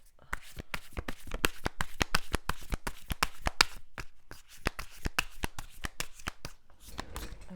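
A deck of enchanted love oracle cards is shuffled by hand, with quick riffling snaps in rapid bursts, close and crisp, in quiet surroundings.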